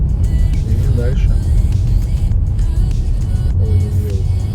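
A Kia Sorento rolls along a snowy winter highway with a constant low road and engine roar, while people inside chat over the drone.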